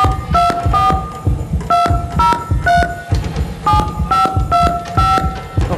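A throbbing heartbeat effect on a Spanish-language battle-of-the-sexes game show pulses loudly and steadily, with no talk over it, and bright tonal beeps ring out with the beats.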